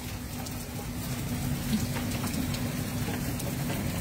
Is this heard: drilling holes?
no